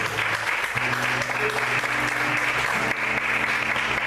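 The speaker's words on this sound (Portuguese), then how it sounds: "Em nome de Jesus, você pode aplaudir e exaltar o Senhor por isso." Steady, dense applause from a church congregation fills the whole stretch, loud and continuous, with a faint low hum of voices beneath.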